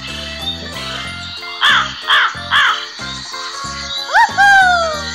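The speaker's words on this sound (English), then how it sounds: "Crow." Crow cawing in a children's bird-learning game, three harsh caws in a steady row, loud and close over a looping musical backing, followed by a bright chime.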